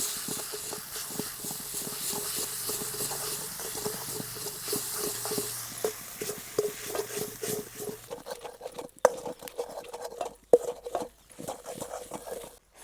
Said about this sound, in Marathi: आता आपल्याला ही मिरची अशी रगडून घ्यायची.